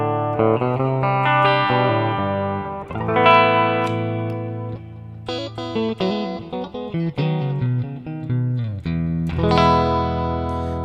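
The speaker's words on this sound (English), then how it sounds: "now you're going to see the delay reverb go off while the distortion comes on" An electric guitar played through a Mooer GE200 multi-effects unit with the distortion switched on, loud sustained chords and note runs under a saturated, harmonically rich tone with some lingering reverb, and no talking.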